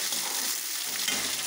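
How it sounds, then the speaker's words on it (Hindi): Vegetables (potato, cauliflower and carrot) frying in a pan until golden, a brief steady close sizzle with faint stirring, no voices. "थोड़ा सुनहरा होने तक भूनेंगे।"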